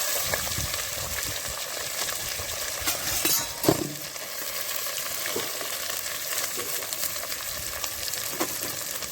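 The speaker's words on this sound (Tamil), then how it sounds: "நல்லா இந்த வெங்காயத்தை வந்து நல்லா வதக்கிக்கணும்" Onions and green chillies sauté in oil in a pan for a duck gravy with fenugreek leaves, a steady close crackling sizzle with a brief scrape of stirring partway through, no talking.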